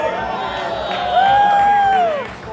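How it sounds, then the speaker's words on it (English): Crowd cheering and whooping at a Wall of Death motorcycle stunt show in Los Angeles, a loud sustained roar of many voices with a rising whistle-like tone, swelling toward the middle and easing at the end. "And the crowd goes wild."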